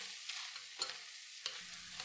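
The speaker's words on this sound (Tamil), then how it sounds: "நல்லா கை நிறைய கொத்தமல்லி இலையை தூவி 1 வாட்டி கலந்து விட்டு இறக்கிடலாம்." Cauliflower and peas masala, just sprinkled with coriander leaves, is stirred in a pan, giving three soft scraping strokes against a low background sizzle, with no talking.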